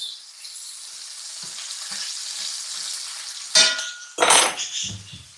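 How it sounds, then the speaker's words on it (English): Bacon sizzling and crackling in a pan, a steady hiss with a couple of louder bursts of spattering and faint utensil clinks. "That's the sound of bacon, my friends."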